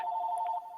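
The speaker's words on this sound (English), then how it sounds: "your phone's ringing off the hook" A steady electronic phone ring tone, a single sustained buzzy trill lasting under a second, clear and fairly loud with no voices over it.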